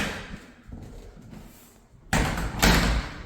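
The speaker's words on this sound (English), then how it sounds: "as I'm trying to close the closet door behind me, but I keep missing it as I'm grabbing for it." A closet door in a bedroom of a Woodbridge, Virginia residential unit is shut with a sudden loud thump, followed by a second heavy knock, after quieter room noise.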